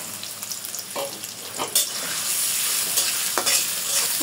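About half a cup of onions frying in hot oil in a wok, with loud close sizzling broken by repeated scraping stirs of a spatula throughout.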